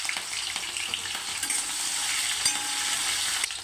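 Finely chopped green chilies fry in hot oil in a wok, a steady loud sizzle crackling throughout with a few sharp spatula scrapes and clicks, no voices.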